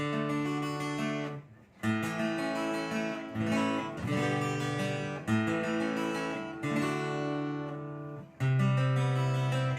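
Bright chords strummed on a Resonance R31 OM acoustic-electric guitar played through software, ringing out in a steady rhythmic pattern, close and clear with a full, processed tone.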